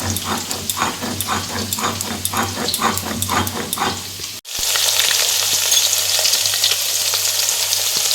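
Potatoes frying in oil for a Bengali kachu ilish recipe give a loud, continuous sizzle with rhythmic stirring scrapes, swelling into a fuller, steadier hiss partway through.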